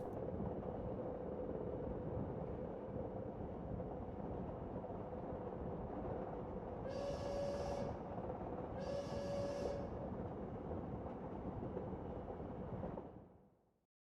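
Steady low rumble of a train rolling along rails on a winter journey, continuous and fairly loud, with two brief high whistle-like tones in the middle before the noise cuts off near the end.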